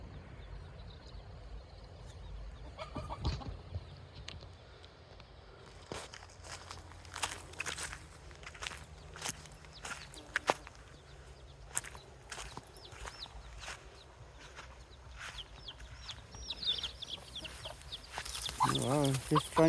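An aggressive mother hen clucks sharply while guarding her chicks in a farmyard where peacocks roam, giving scattered loud clucks among footsteps and rustling. Bursts grow louder near the end, and a person speaks at times.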